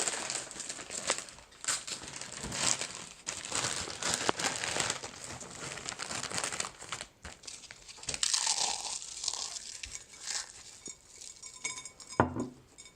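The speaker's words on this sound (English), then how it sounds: "take some Doritos out of that bag, crunch it up, sprinkle it on over" Doritos tortilla chips crushed inside their crinkly plastic bag, a steady run of loud crackling, crinkling and crunching close by with brief pauses, ending in a few sharper rustles.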